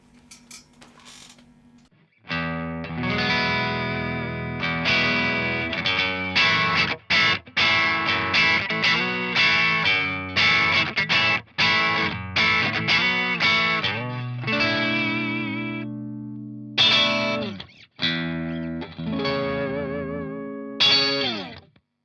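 Bright, distorted electric guitar riffs through a Headfirst Alta amp with the second bright cap engaged, choppy strummed chords with sharp stops and ringing high end, loud and close throughout.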